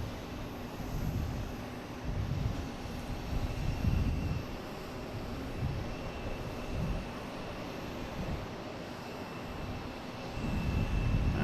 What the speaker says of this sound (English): next coming in is a JetBlue coming in from Orlando